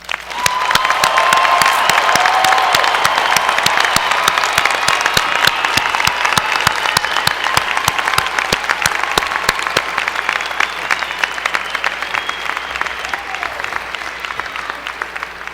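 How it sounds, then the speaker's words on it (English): Sustained applause from a large crowd at a university winter commencement, steady and loud throughout, with dense overlapping claps and no speech. "Please join me in one more round of applause for our graduates."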